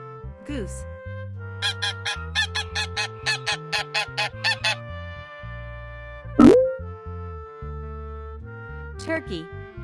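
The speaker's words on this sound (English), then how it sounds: "Goose." A goose honks in a rapid series of loud, evenly spaced calls, close up, with music playing underneath and a whooshing effect afterward.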